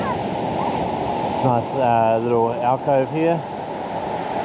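Ocean waves break at Port Noarlunga beach as a constant, broad surf roar, and someone speaks briefly over it partway through.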